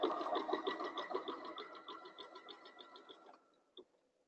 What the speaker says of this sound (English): I think my serger needs a little adjusting